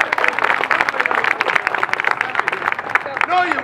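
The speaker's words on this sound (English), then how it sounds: "Hard Stubby Boulder, give him a round of applause." Crowd applauding at a Renaissance faire show in Boston, steady close clapping filling the clip, with people talking and cheering briefly near the end.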